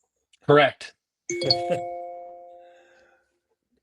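A phone rings with a doorbell-like chime during an aviation talk, a clear two-tone ding that rings out and fades over about two seconds, just after someone speaks a single word.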